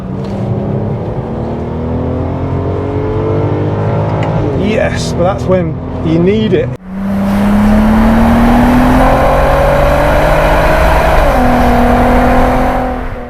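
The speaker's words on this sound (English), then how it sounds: "There is a bit of a burble going on all the time." A VW Golf Mk4 R32 with DSG gearbox and 240 horsepower drives along, its engine and exhaust giving a steady low burble with shifts in pitch, heard under someone talking in the cabin.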